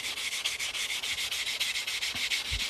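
A cut edge of a 1969 quarter rubbed back and forth on a nail file block, producing a quick, evenly paced scratchy rasp, about a dozen strokes, close and without any voices.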